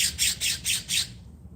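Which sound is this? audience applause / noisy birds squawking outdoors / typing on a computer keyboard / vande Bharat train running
noisy birds squawking outdoors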